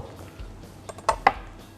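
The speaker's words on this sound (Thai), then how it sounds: "ปลาเราจะต้องหั่นเป็นเต๋านะครับ" A knife cutting fish into cubes on a board for Thai seafood coconut soup, a few quick sharp chopping taps, close and fairly loud.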